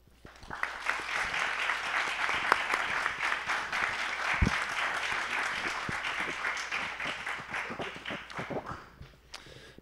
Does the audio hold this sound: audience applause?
yes